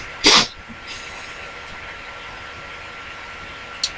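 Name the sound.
sneeze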